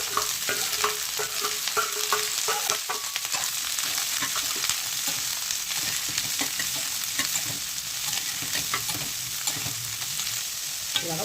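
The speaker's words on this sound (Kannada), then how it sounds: "ಇವಾಗ ಕ್ಯಾಪ್ಸಿಕಮ್ ಮತ್ತು ಈರುಳ್ಳಿನ ಸ್ವಲ್ಪ ರೋಸ್ಟ್ ಮಾಡಿಕೊಂಡು ಎತ್ತಿಟ್ಕೊಬೇಕು." Capsicum and onion frying and being stirred in oil in a kadai, a steady close sizzle running the whole time with repeated scraping stir sounds and no talking.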